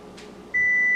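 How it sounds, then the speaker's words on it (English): A kitchen timer alarm: a sharp electronic beep tone starts midway and holds steadily, loud and close, after a brief faint rustle. "Now that the alarm has gone off"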